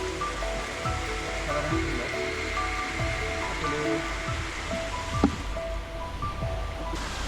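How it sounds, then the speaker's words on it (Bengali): A constant rushing roar of a waterfall in the Bandarban hills, Bangladesh, fills the scene, steady and unbroken, with faint tonal hums underneath. "এই যে আমাদের কাঙ্ক্ষিত ঝর্ণা দেখুন আমরা চলে এসেছি"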